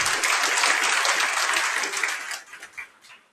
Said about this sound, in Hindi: ताली बजा लीजिए